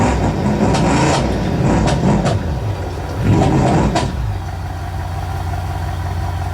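Car engine in the BeamNG driving game revving and idling at close range, with rising and falling throttle bursts over the first four seconds before settling into a steady low hum.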